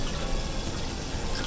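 Two cups of cold water are poured into whisked yogurt to make thin spiced buttermilk, giving a steady splashing, filling rush that lasts throughout.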